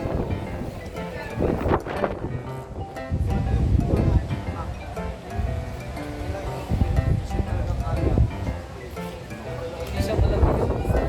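Steady wind gusts buffet the microphone with a low rumble, while people talk over it throughout.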